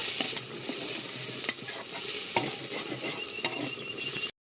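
Ivy gourd greens and potatoes stir-fry with chilli powder in a pan, a steady close sizzle broken by scraping stirs and spatula knocks before cutting off abruptly.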